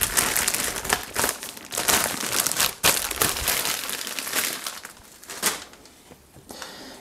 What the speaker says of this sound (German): Es raschelt, aber ihr seht nichts. Greift zu der Tüte, wo die Filter drin sind.